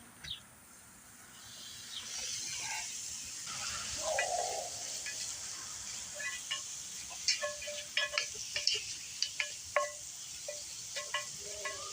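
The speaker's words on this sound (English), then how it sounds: "I'm going to get this pound of bacon in there and get it to frying up." Bacon sizzles in a Dutch oven, a steady close hiss with small irregular pops and crackles that grow denser toward the end.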